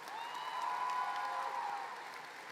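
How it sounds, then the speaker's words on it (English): A graduation audience claps for a retiring principal at a high school commencement, a brief distant swell of applause that rises and fades over a couple of seconds, with a faint tonal ring over it. "Give her another round of applause."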